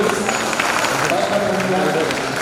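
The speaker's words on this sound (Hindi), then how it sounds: "भगवान को प्रसन्न करने के लिए, उनके लिए जोरदार तालियां बजा दीजिए" An audience at a Janmashtami cultural programme claps loudly and continuously for the Lord, a thick wash of applause mixed with crowd voices throughout.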